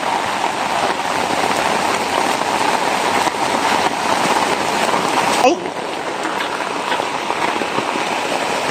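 Heavy rain pounds down on a farm in a constant, loud hiss close by, with a brief shift partway through as the downpour continues.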